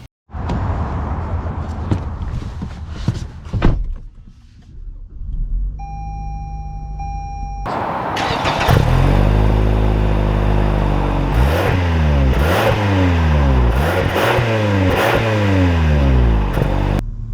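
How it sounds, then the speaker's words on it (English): A 2021 Toyota Avalon Limited AWD starts up and pulls away, a chime sounding before the engine note rises and revs repeatedly as it accelerates, loud and close with no talking. "let's take this Avalon out and see how she drives"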